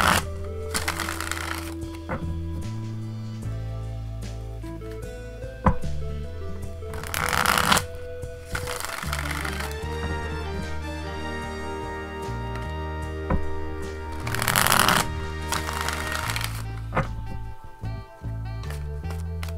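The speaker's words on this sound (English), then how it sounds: "Just give me a second here to ask that question and shuffle the cards up." A deck of tarot cards is shuffled by hand in several bursts of quick riffling and flicking, near and crisp, over a soft sustained musical background with no talk.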